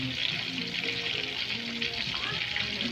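Milkfish sizzles and crackles in hot oil in a pan, a constant dense frying hiss close up, with faint talk underneath.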